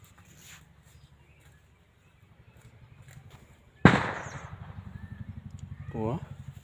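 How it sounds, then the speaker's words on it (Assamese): A firecracker bursts with a single sharp bang beside a cucumber field, followed by a short crackling tail, with people talking quietly before and after. "ফটকা মাৰি আছে না"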